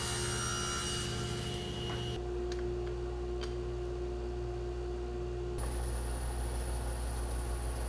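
A bandsaw rips a wood cutoff to width, the motor's steady hum and whirring blade changing tone as the cut starts, eases off mid-pass, and bites in again.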